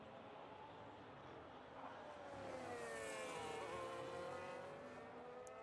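A Ferrari race car in a racing video game, steady engine drone with a rising, sweeping pitch as it passes close, loudest mid-way, with other cars faint behind.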